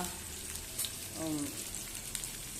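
Onion hits the tempering oil with kokum for zunka, a soft, close sizzle with a brief swell of crackling in the middle, then a quieter steady fry.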